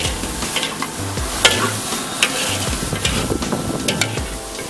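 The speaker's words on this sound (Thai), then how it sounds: "ดีครับผัดเผ็ดปลาไหลครับท่านผู้ชมแค่นี้ครับ" Spicy eel is stir-fried at a busy street market stall, a loud continuous sizzle with quick clattering stirs and scrapes close by.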